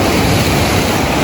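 Sea at high tide in the early morning at a Pangasinan beach resort, a loud continuous roar of surf with wind rushing across the microphone.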